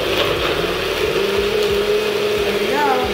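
Small blender whirring through salsa roja ingredients, a loud steady motor drone with slight pitch wobbles as the mix churns, close up with a voice talking over it.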